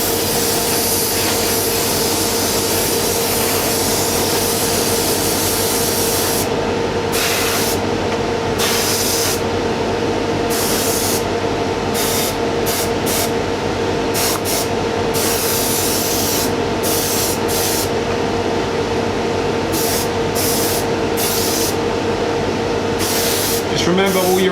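An airbrush sprays paint heavily onto a Revell 1/48 Tornado model aircraft kit, a loud steady hiss with a constant compressor hum, broken by repeated brief stops and starts of the spray.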